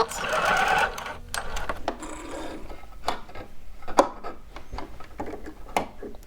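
A home sewing machine backstitches on a shorts or pants seam, giving a quick whirring burst of stitching followed by clicks, knocks and handling noises of fabric and machine parts.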